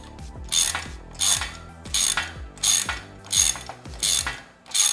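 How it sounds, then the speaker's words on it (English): Rock slider bolts being tightened with an Allen key and a 7/16 or 11mm ratchet wrench on a Steinjager Phantom Series slider install: six loud, evenly spaced bursts of ratchet clicking, close up, with no talking. "we're gonna grab our Allen key and then either your 7/16 or your 11mm. Just go ahead and tighten these down."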